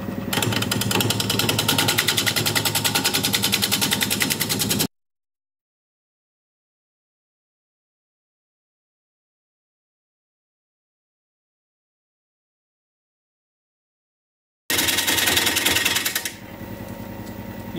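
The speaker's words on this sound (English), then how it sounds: "now we'll just nibble away at the rest of this here, and we're turning at about 1200 RPM" Carbide tool turning wood on a lathe spinning at about 1200 RPM, a loud steady whirring scrape in two stretches separated by a long silent gap, the second trailing off quieter.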